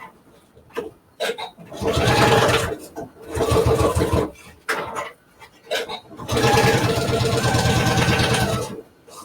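A sewing machine stitching a clear vinyl zipper case with backstitching, heard as two main whirring runs of a couple of seconds each, with shorter starts and handling clicks between, close and fairly loud.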